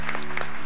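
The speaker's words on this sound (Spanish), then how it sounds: "¡Un aplauso!" A brief burst of audience clapping on a youth quiz show, loud and close, lasting under a second.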